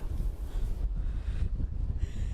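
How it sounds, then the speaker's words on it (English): Strong wind gusts during a nor'easter snowstorm in New Bedford, Massachusetts, buffeting a nearby microphone with loud, continuous low rumbling and fluctuating roar throughout. "we just had an enormous gust of wind that honestly almost knocked me over"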